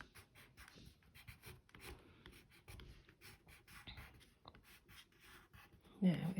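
Quiet, repeated scratchy strokes of a pencil shading across paper, in short rapid bursts, with a soft voice speaking near the end.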